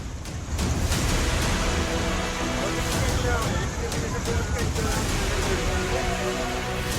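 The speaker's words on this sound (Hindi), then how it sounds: "लगातार बारिश के चलते यहां सड़क दरिया में तब्दील हो चुके हैं" Heavy monsoon rain in India pours over a road turned into fast-flowing flood water, making a constant loud broadband rush with no breaks. A voice speaks over the downpour.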